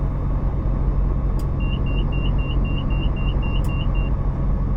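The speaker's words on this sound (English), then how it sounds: "if I turn the generator switch on now, it starts making a bunch of noise." An aircraft generator is switched on in Microsoft Flight Simulator 2024. A steady, loud engine drone runs throughout, and a rapid series of short, high electronic beeps sounds midway, with a couple of sharp clicks. No speech.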